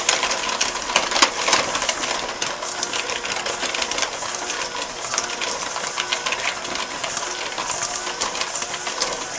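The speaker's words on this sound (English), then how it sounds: "just a regular handheld mixer, we're going to beat this for about 2 minutes" A handheld electric mixer beats butter and brown sugar in a bowl at medium speed, a steady close whirring with rattling beater clicks running continuously and fairly loud, with no talking.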